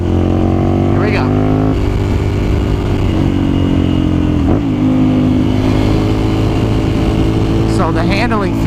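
A 2011 Ducati Monster 796 ABS motorcycle engine drones steadily under a rider, with a few short revving rises and a brief throttle dip midway, loud and close throughout with constant wind noise.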